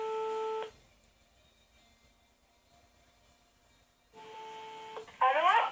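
A phone call on speakerphone: a steady electronic tone, a long near-silent pause, the tone again, then a quick burst of dialing beeps.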